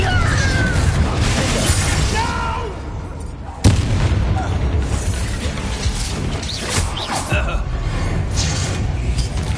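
Confringo blasting curse exploding in Hogwarts Legacy, a sharp loud blast cutting through busy combat noise with mechanical clatter and voices around it.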